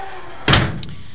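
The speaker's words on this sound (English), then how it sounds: "that door slides over and slides shut" The sliding passageway door of an M725 ambulance rolls shut with one sharp, close thump, followed by a brief faint rattle.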